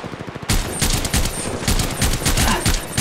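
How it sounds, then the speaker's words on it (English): Rapid automatic gunfire from Apex Legends Mobile on Android, loud and close, with bursts of shots rattling through the whole stretch after a brief quieter lead-in. "Firing."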